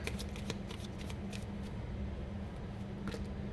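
Tarot cards shuffled or drawn during a reading, giving a steady run of soft papery riffling and light slaps that continue throughout at moderate closeness, with no voices.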